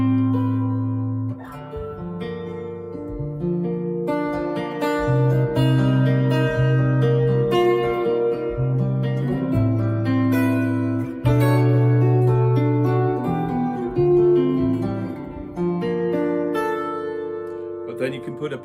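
A nylon classical guitar patch from a Roland GR-55 guitar synthesizer, triggered by a PRS SE Hollowbody II with piezo and GK-3 pickup, plays plucked chords and melody notes steadily for nearly twenty seconds, with no talking.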